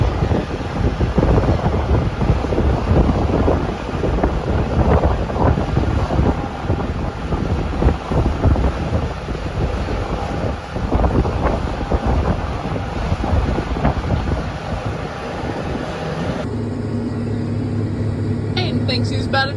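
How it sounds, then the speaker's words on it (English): Strong wind buffets the microphone in a constant loud roar, with heavy low rumbling gusts that ease slightly near the end, during a wheat harvest in North Dakota. "So very windy as well today."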